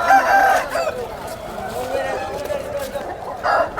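Roosters crow repeatedly at a busy village market where fowl are sold, loud and near, over a steady murmur of crowd voices.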